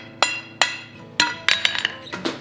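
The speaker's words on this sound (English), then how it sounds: "I'm just hitting with the hammer half on, half off" A steel hammer strikes hot steel at a forge while a moose head chess piece is shaped, giving sharp ringing clinks, first spaced apart and then coming quicker near the end.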